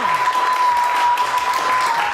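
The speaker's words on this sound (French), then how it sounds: "je vous demande d'applaudir très très fort" A TV studio audience claps loudly and steadily through the whole stretch, a thick wash of applause with a faint steady tone running beneath.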